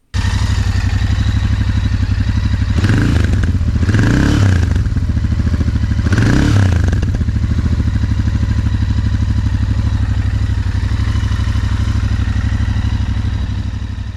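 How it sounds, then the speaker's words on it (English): A Royal Enfield INT650 twin idles with a steady low baritone burble, close and loud, its throttle blipped three times early on before settling back to an even, continuous rumble. "This bike even sounds like a Bonneville to my ears with the low baritone burble."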